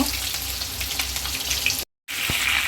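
Beef chaap fries in a pan with a loud, dense, continuous sizzle close by, broken by a brief cut to silence before the hiss resumes.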